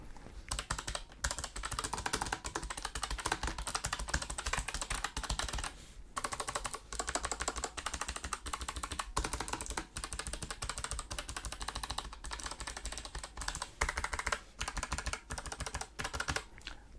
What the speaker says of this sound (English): let's do some typing and see what it actually sounds like